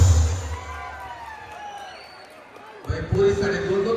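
Crowd cheering and applause for two performers at a Khandeshi cultural festival stage show, a dense wash of voices and clapping that dips midway and then surges loudly again near the end.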